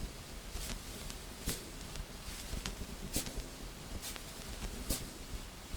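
Jazz brush strokes, vinyl crackle and white noise layered into one steady textured bed, with soft brushed hits recurring at a loose, regular pulse over continuous hiss and crackle.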